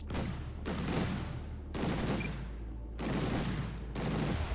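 Rifles fire in the RimWorld video game in four long, loud, continuous volleys of rapid shots, each stopping abruptly before the next begins.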